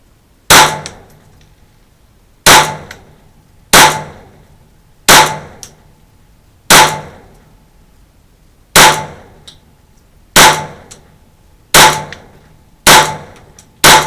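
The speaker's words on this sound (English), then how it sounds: "we'll see if we can shoot a good solid group offhand here" Ruger 22/45 Mark III .22 pistol fitted with a dot sight, fired offhand at a target: ten loud, crisp single shots spaced one to two seconds apart, each followed by a brief ringing decay, with no talking.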